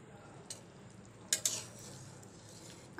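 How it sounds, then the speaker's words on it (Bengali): After the lid comes off, a spoon stirs chicken curry in a cooking pot with a few faint scrapes and clinks against the metal over a quiet background. "এখন ঢাকনাটা উঠিয়ে আমি নেড়ে চেড়ে দিচ্ছি।"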